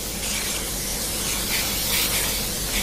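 Butter spray from an aerosol can being applied to a baking tray for cornets de Murat, a steady, close, loud hiss that holds unbroken throughout.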